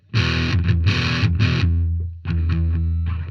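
A DOD American Metal distortion pedal on a high-gain circuit drives guitar chords into a heavily distorted, buzzing tone, several strummed bursts in two phrases separated by a short pause, close and loud.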